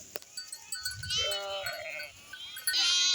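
Sheep bleat several times in close succession, with overlapping calls from a nearby flock held inside a netted enclosure in a forest, and some shuffling in the background.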